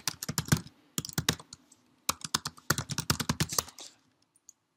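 Quick bursts of computer keyboard keystrokes as a Salesforce username is typed, close and crisp, in clustered runs with short pauses between them and no talking.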